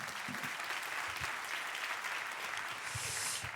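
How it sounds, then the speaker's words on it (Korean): A church congregation applauds in thanksgiving at a founding service, with steady, fairly soft clapping from many hands filling the whole moment and no talk. "우리 감사와 찬양으로 한번 영광의 박수 올려드릴까요?"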